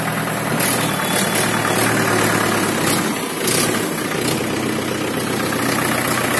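A Mahindra 575 tractor engine idles steadily after starting, a continuous loud diesel rumble with no one speaking.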